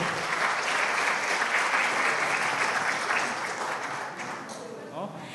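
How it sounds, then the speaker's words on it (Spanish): Loud, sustained applause from an audience greeting a school team at a citizens' debate final, holding strong before tapering off near the end. "Recibamos con un muy, muy, muy fuerte aplauso al equipo del Colegio Escipión Yona"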